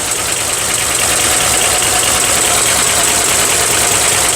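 The 10PC1 V10 diesel engine of an Isuzu V330 six-wheel-drive ten-wheeler truck idles loudly and close up, with a dense, steady rumble and a smooth, even knock.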